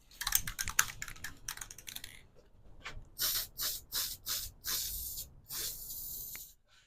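An aerosol can of hammered-finish paint sprays the underside of a Craftsman 109 lathe stand in a string of close, hissing bursts, rapid short puffs at first and then longer steady sprays, with no voices.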